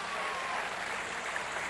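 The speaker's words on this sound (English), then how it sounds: "Let's have a round of applause for both fighters." Boxing arena audience applauding both fighters after a bout, a dense, steady wash of clapping that fills the whole moment at moderate level without a break.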